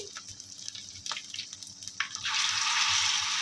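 Ash gourd leaf fritters coated in batter frying in hot oil, a few soft pops and drips at first, then a steady loud sizzle swelling up near the end.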